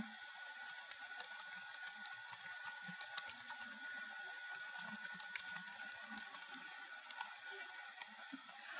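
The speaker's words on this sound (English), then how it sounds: "so if I type again" Rapid, light key clicks from typing on a computer keyboard, faint and evenly spaced across the whole stretch over a soft steady background hiss.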